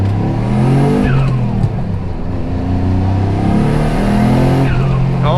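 Turbocharged car engine, set up with a boost controller and wastegates, revving and accelerating loudly and close by, with rising pitch sweeps between gear changes.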